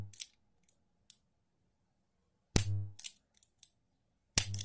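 Crisp, isolated mechanical clicks from a revolver trigger being staged for target shooting, heard alone in near silence: a few small ticks, then sharper snaps spaced about two seconds apart.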